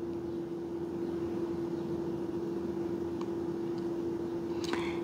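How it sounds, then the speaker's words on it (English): Airplanes flying over a home near Newark give a steady, distant droning hum that runs unbroken through the whole stretch, with a faint brief rustle near the end. "there are airplanes flying around"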